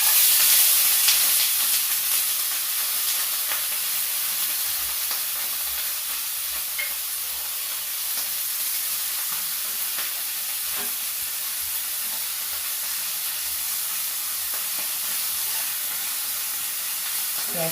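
Chopped onion frying in oil in a pan, a continuous even sizzling hiss at steady volume with faint occasional crackles.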